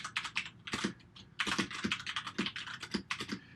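Rapid typing on a computer keyboard: close, loud bursts of clattering keystrokes in quick runs, broken by brief pauses, with no voices.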